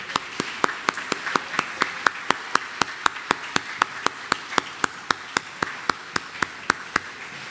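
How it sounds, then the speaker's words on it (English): A single pair of hands claps in an even, steady rhythm, about four sharp claps per second, close and distinct against a quiet room at a media hall of fame induction ceremony. "Give them a round of applause."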